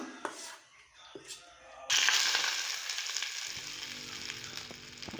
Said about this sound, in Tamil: எண்ணெய் ஊற்றி கடுகு கருவேப்பிலை போட்டு தாளிச்சாச்சு